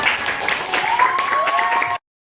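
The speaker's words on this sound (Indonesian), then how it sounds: "tepuk tangan untuk kita semua" Classroom students burst into steady, dense clapping that stays loud for about two seconds and then cuts off sharply into silence.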